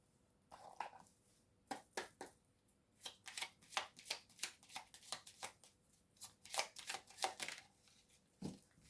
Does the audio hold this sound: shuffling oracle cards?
yes